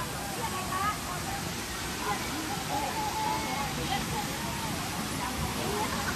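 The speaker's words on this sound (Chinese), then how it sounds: "哇，这瀑布真的是漂亮啊！" A waterfall hidden deep in the mountains roars in a steady, dense wash of falling water that fills the whole scene without letting up, while voices murmur faintly in the background.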